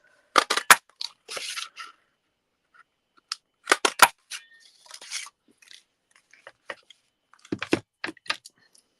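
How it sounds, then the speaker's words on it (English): Scissors cutting card for a handmade greeting card, several short crisp snips in quick clusters separated by pauses, close and clear in a quiet room. "I can use scissors for this"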